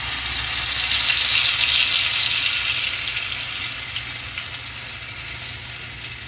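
Batter poured into a hot skillet gives a steady, loud broadband sizzle that slowly eases off over several seconds, with no talking.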